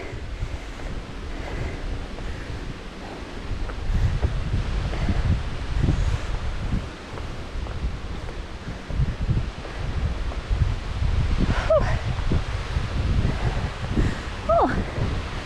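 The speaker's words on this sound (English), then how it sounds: "Oh, it's got windy." Gusts of wind buffet outdoors with low rumbling noise that swells and eases, plus a couple of faint distant bird chirps.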